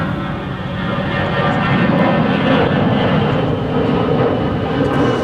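A Delta Airbus airliner at Dallas-Fort Worth airport produces a loud, steady, broadband engine roar with a low rumble, continuous and close throughout.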